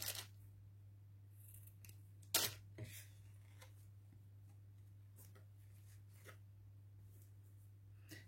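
Scissors cut through lace for customising a small pot. A few faint, scattered snips sit over a steady low hum, with one sharper, louder cut near the middle.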